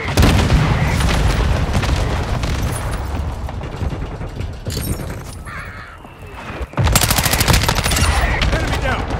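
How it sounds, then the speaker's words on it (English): Mortar strike and gunfire in Call of Duty Modern Warfare II, a loud rumbling barrage of shots and blasts that eases briefly before a sudden heavy impact restarts the din. "Requesting fire mission. Target marked. Copy. Mortar strike."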